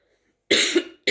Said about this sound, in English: Excuse me, I have some cough.